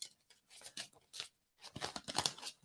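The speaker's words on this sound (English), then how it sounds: "I love the sound of the card shuffling" Tarot cards shuffled by hand, close and quiet, in short crisp riffling bursts with a brief pause midway and no talking.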